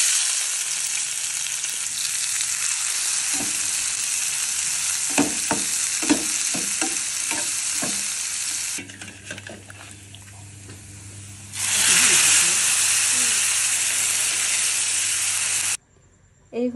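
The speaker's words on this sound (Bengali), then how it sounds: "এক্ষেত্রে আমি এখন বাগার দিব।" Hot tempering oil poured over Qurbani meat curry on a clay stove sizzles loudly, with stirring clatter early on, then a hiss that drops back and flares up strongly again before cutting off.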